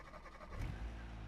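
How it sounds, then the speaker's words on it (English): A six-cylinder car engine in the BeamNG driving game starts up with a brief low rumble, then settles into a quiet, steady idle. "We'll go ahead and start it up real quick."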